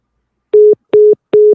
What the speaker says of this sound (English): Call failed.